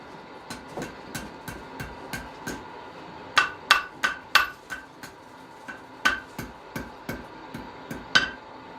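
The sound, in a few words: blacksmith hammering a curl into metal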